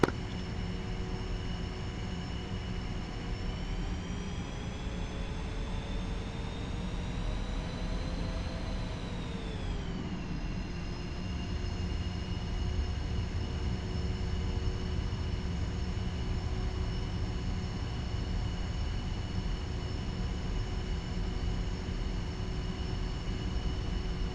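F-5E jet in the DCS flight simulator spooling up for takeoff, a steady loud engine roar with a rising then falling whine near the middle, continuous and close with no talk.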